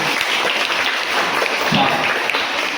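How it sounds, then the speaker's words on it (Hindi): Students and guests at a Teacher's Day function in an Urdu school keep up loud, continuous applause. It forms a dense, even wash of clapping with faint voices underneath. "तालियां रुकना नहीं चाहिए, जोरदार तालियां"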